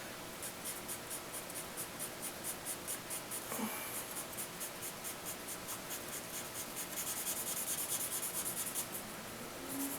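A pencil held on its side shades and smudges across paper in steady rhythmic back-and-forth strokes, a close, soft scratchy rubbing that grows slightly denser toward the end.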